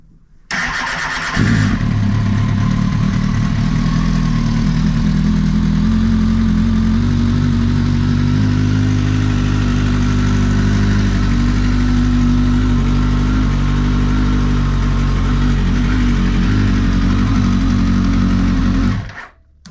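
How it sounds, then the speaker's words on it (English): A 2007 Kawasaki ZX10R motorcycle with its factory lead battery cranks briefly, fires and settles into a loud, steady close-up idle that runs for most of the clip before cutting off. "here's my 2007 ZX10R. This is going to be with the factory lead battery. It's going to be the startup."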